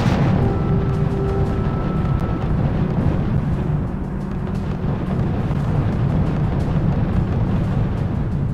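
Heavy artillery fire in the R.U.S.E. strategy video game, heard as a dense, continuous low rumble of distant blasts and battle noise with a faint tonal hum early on.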